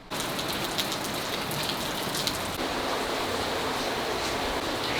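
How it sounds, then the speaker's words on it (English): Steady rain pours down as a storm passes over a fishing community on Negros island in the Philippines, a dense, even hiss of drops on surfaces filling the whole span at constant strength with no voices. "We got small showers of rain, no more wind"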